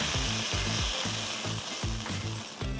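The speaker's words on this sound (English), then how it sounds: "We don't want to overcook the beef in a stir fry." Beef stir-fries in hot oil for Chinese-style beef chow mein, a steady loud sizzle with rhythmic scraping strokes of a spatula or wok tool through the pan, with no talking.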